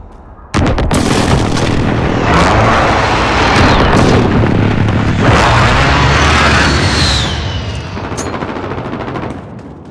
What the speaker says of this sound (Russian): Они наносят точечный авиаудар.